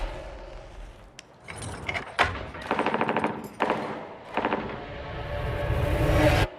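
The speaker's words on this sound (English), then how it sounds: "Were those gunshots?" Bursts of rapid gunfire in a film scene crackle in short, rattling volleys separated by sharp single cracks, growing denser and louder toward the end.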